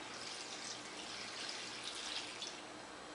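Salt-water brine poured over fermenting vegetables in a jar, a steady close splashing gush of liquid running throughout with no talk.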